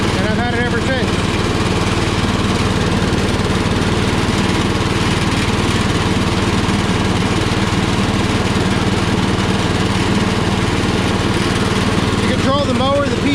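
A Power King tractor lawn mower engine runs continuously, loud and close, a steady droning roar with a voice faintly audible under it at moments.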